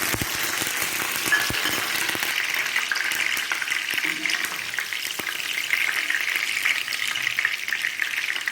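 Sliced green chillies and curry leaves crackle in hot oil in a pan for a Kerala-style soya chunks fry, a steady bright sizzle with a few spatula knocks early on.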